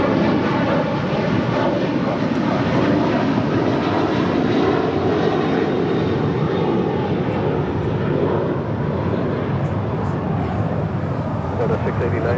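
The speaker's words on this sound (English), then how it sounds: "That was Delta Airlines Flight 689 heading to Raleigh-Durham on a 737-900ER" A Delta Airlines Boeing 737-900ER jet at LAX roars steadily and loudly, a constant engine rumble and hiss with a faint rising whine, and radio voices sound faintly beneath.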